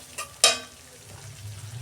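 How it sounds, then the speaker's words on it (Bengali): Spice paste (masala) for a home-style fish curry fried in a pan: two quick scraping, sizzling stir bursts, the second louder, then a low, quiet simmer. "দেখুন বন্ধুরা, মশলাটাকে আমি ভালো মতন কষে নিয়েছি।"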